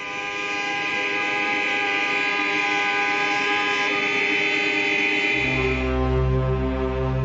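Car horns blare together in a sustained, loud chorus of honking protest on a street in West Berlin, a dense layered blast that holds steady throughout, with a deep low tone joining toward the end.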